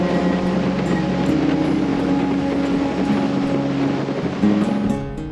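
A motorboat chugs along the Randmeeren lakes with a steady, droning engine hum and a constant wash of water against the hull, close and fairly loud, with no talking.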